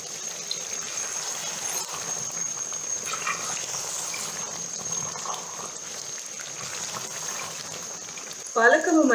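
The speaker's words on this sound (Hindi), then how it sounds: "तो अब हम इसको तकरीबन 15 मिनट तक भूनेंगे ताकि इसका पानी भी खुश्क हो जाए और गोश्त के साथ ये अच्छी तरह से भून जाए" Spinach and mutton for palak gosht fry in a pot with a continuous soft bubbling sizzle and a thin steady hiss, followed by a brief louder clatter at the end.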